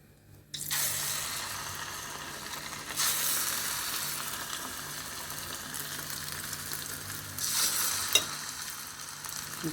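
A batch of punugulu fritters drops into hot oil and sets off a loud, bubbling sizzle that swells in waves, with another burst of frying near the end and no voices.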